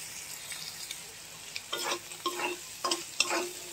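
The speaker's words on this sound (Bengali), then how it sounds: "একটু জিরা বাটা দিয়ে চিংড়ি মাছটা ভাজাটা বসাই দিলাম।" Shrimp coated with turmeric and cumin paste fry in a pan, a soft steady sizzle broken by several scraping stirs of a spatula, close and fairly quiet.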